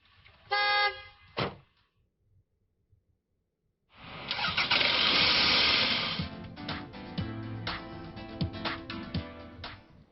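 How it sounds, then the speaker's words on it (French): A car engine cranks and catches, then runs with a loud, steady roar for several seconds, following two brief horn-like toots at the start. "démarre ta voiture"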